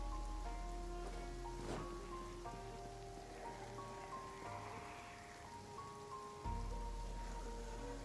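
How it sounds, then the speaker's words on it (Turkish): Rain falling steadily in the zombie survival game Project Zomboid, a soft continuous patter under sustained tonal game music notes, even and unbroken throughout. "Yağmur yağıyor"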